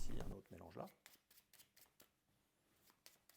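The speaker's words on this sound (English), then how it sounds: "I ask to each one of them to shuffle a pack of cards." A pack of playing cards is shuffled by hand for a card trick. A riffle burst comes first, then a run of soft, evenly spaced card snaps and flicks, with a voice speaking at the start.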